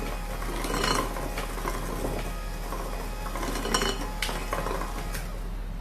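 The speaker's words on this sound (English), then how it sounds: "Once it's just about combined, you stop and you add your buttermilk and you keep mixing" Cake batter is mixed after buttermilk is added for a vanilla cake, with steady scraping and clinking of a utensil against a bowl over a constant low hum.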